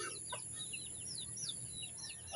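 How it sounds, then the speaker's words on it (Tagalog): Several chicks peep and chirp in quick, high bursts while feeding on a farm, close by and fairly steady over a low background hum. "Ito mga sisiw ay kumain na rin."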